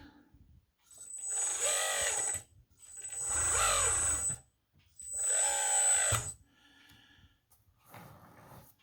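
The hydraulic pump of an LXY RC model skid steer gives a high-pitched electric whine with mechanical buzz in three sustained bursts of about a second and a half each, separated by short pauses.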